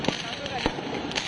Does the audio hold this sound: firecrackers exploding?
yes